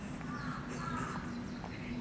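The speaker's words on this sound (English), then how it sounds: "I like it when the birds chirp in spring." A bird calling in spring outdoors, a few faint chirping and cawing calls scattered over a low steady background hum, no talking.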